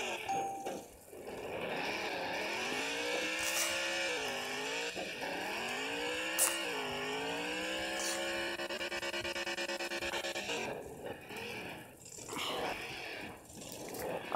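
Video game car engine labouring up a steep hill, a sustained droning whine with harmonics that dip and climb as the revs sag and recover, loud and steady for about ten seconds before fading into softer noise.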